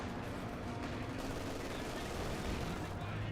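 Sustained gunfire in Company of Heroes 2, a World War II strategy game, with a dense, continuous rattle of shots poured onto a Grenadier unit, steady and busy throughout under a low battlefield rumble.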